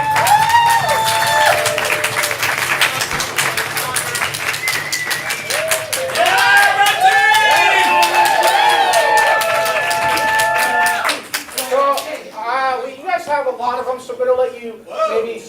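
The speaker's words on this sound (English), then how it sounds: "Give them a round of applause as they get in" Audience applause and cheering at a ComedySportz improv comedy show as the players come in, loud and continuous for about eleven seconds, with talk and voices over it before the clapping fades.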